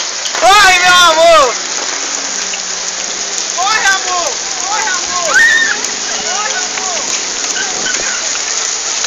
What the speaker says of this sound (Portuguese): Também chuva de granizo?